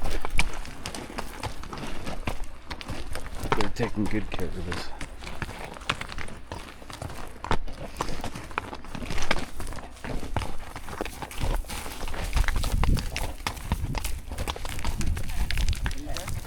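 Horses walk a trail in pitch darkness, their hooves clip-clopping in an uneven rhythm close by while riders talk over them throughout.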